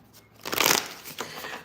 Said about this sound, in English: How you even know I'm pulling cards for people?